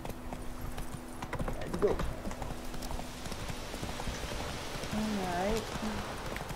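Clip-clop of horse hooves from a video game horse, moderately loud and steady behind background game sounds, with someone talking briefly over it.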